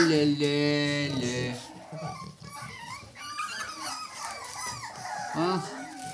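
Several dogs howl together in long, wavering, drawn-out tones, as if singing along, heard close and loud, with a person talking among them as the howls break into whimpers and yips.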